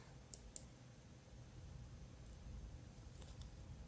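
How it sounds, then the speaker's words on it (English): Two quick computer mouse clicks near the start of a right-click, crisp and close, followed by soft low room hum with no talking. "Just right click, it would copy it"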